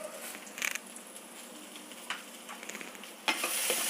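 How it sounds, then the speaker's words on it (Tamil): Okra sautéing in a pan for sambar gives a steady sizzle and fry, broken by a few sharper stirring scrapes and clicks, with a louder burst of sizzling near the end and no talking. "வெண்டைக்காய் நல்லா வதங்கிடுத்து."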